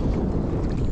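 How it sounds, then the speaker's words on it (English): Strong, relentless wind gusts over 20 mph sweep across a lake while fishing for lake trout from a boat, a loud, steady rumbling roar of wind hitting the microphone with no break and no talking. "this wind is relentless right now"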